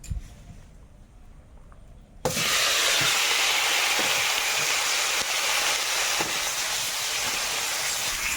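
Fish frying in hot oil gives a loud, steady crackling hiss that bursts in suddenly after a couple of seconds of quiet and then holds at full strength with no talking.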